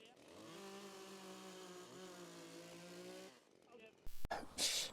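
A small Stihl saw cuts through metal roofing on a garden room, giving a sustained, rising whine with a harsh buzzing edge for about three seconds, then fading, followed by a few loud clattering knocks of metal sheeting.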